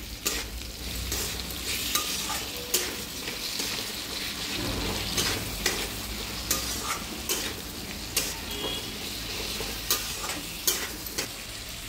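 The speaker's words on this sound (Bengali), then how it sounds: "ভালো করে সব মশলা একসঙ্গে কষিয়ে নেব" Spices stirred and fried together in a pan for a vegetarian cabbage curry, a constant soft sizzle broken by regular scraping clicks of the spoon against the pan, close and moderately loud, with no talking.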